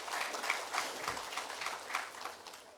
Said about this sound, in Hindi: उस तालियों के साथ स्वागत।